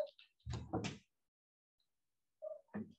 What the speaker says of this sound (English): Just gonna close my door